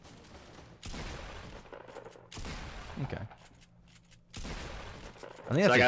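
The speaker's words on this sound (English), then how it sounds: "hit him with my shotgun" Shotgun blasts in a Fortnite battle, three loud, sharp bursts spaced a second or more apart, each followed by a short ringing tail, with a player's voice talking at the end.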